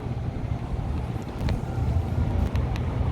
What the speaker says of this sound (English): It's a little breezy out.